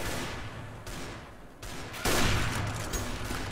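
In the Overwatch video game, sniper fire comes as a few sharp, broadband shots spaced over a few seconds. The shots sit within a fairly quiet game soundscape, and the last one is the loudest.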